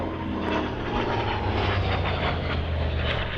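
A Hawker Sea Fury warbird's piston engine drones steadily as the propeller aircraft passes, a loud, sustained roar at moderate distance with no voices.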